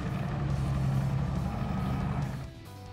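Centurion driver trainer tank roaring past up close, a loud steady engine drone with heavy low rumble that eases off near the end of three seconds.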